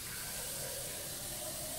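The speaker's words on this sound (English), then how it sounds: "just fill up half a jar or so of water" Filtered water pouring into a jar to make sauerkraut brine, a steady, full rushing gush that runs continuously and close up without any talking.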